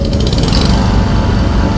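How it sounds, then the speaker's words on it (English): Yamaha R3 two-cylinder motorcycle engine revving hard in a short burst, a loud, buzzy high-pitched drone held close and steady for under two seconds. "and I unleashed the mighty two-cylinder."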